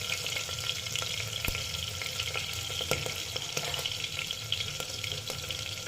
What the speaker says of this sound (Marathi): त्याला व्यवस्थित परतून घेऊ।